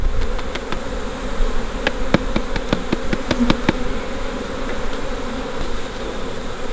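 Honey bees buzzing steadily during a hive inspection, a close, continuous drone with a run of sharp taps or knocks from handling the equipment partway through.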